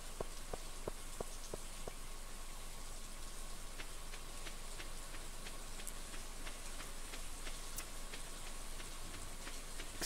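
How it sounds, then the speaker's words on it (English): Steady rain patters in the Stardew Valley farming game, a dense hiss of falling drops with scattered sharper droplet ticks, constant and moderately quiet throughout with no talking. "Because it's raining."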